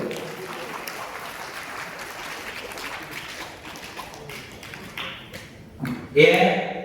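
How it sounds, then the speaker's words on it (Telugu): An audience at a spiritual discourse in Chittoor claps in a scattered, moderate patter that thins out, with speech mixed in and a louder burst of sound near the end. "నేను ఒకటి చప్పట్లు కొడితే సరిపోదు, మీకు మీరే కొట్టు"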